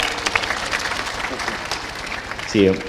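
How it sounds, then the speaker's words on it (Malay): A crowd at a talk event breaks into loud, dense applause that fills the space evenly, with a voice cutting in briefly near the end. "kita bagi tepukan gemuruh untuk Ustaz Azhar Idrus"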